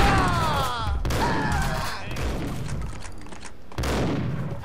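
Rapid gunfire from thugs in Max Payne, several loud bursts of shots in quick succession with sharp cracks and ringing echoes, close and dominant throughout.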